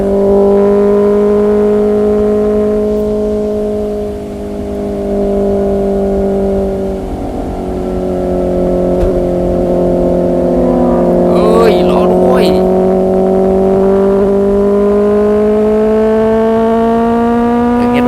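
Honda CBR650R motorcycles pulling away together, a steady loud engine drone that rises in pitch as they accelerate, with voices and chatter throughout.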